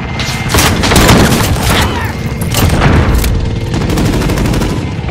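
Loud bursts of gunfire and booming blasts from a Call of Duty: Modern Warfare 2 battle, rapid and overlapping, with a sharp explosion amid the chaotic clatter.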